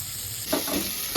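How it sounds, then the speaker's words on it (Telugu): Mango pieces lightly frying in a little oil for roti pachadi, a soft continuous sizzle with a couple of short stirring scrapes close by. "చూడండి, ఈ విధంగా లైట్గా ఫ్రై చేసుకోవాలి"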